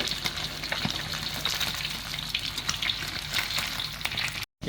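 Cut pieces of gourami fish fry in oil in a wok for rica-rica, a loud, steady, dense sizzle that crackles continuously up close, briefly dropping out near the end.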